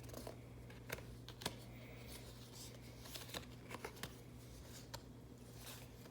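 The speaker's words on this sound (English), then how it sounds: "so we'll just shuffle." Playing cards from the board game Codeword Cromwell are shuffled by hand in a quiet room, a series of soft, quick riffling snaps and taps over a low steady hum.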